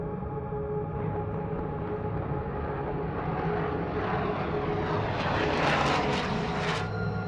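A B-2 stealth bomber flies overhead with a continuous droning engine roar that swells gradually, growing louder and more rushing toward the end.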